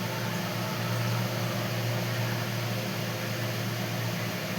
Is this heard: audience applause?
no